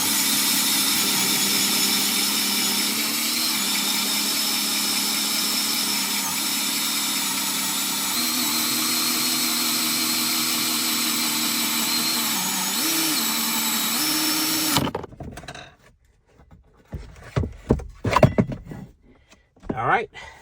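A power drill bores a hole through a panel during a Dometic refrigerator install in a Ford F150/250, grinding steadily and loud for about fifteen seconds before cutting off, followed by scattered clatter and handling noise.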